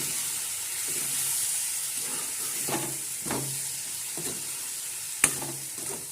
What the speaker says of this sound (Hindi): अब एला हमन अच्छा से मिक्स कर लेते हैं।